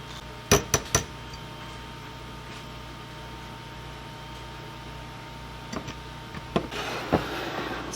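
A spoon whipping cream in a glass, a quick run of sharp clinks, then quiet, then a few more scattered taps and scrapes, close and without speech.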